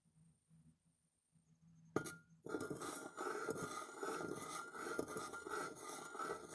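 A spoon stirs honey, sugar and milk in a glass, starting with a sharp clink and then settling into a steady, close scraping swirl against the glass that continues to the end.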